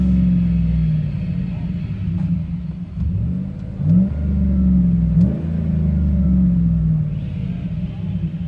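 Chevy/GMC 5.3L V8 truck with a loud aftermarket exhaust, a deep rumbling idle broken by several revving blips that rise and fall, close and loud throughout.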